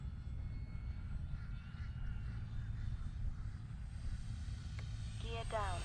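An E-flite 1.2 m P-51 model airplane drones steadily overhead in a park, its engine hum continuous and fairly loud, with a person speaking briefly near the end.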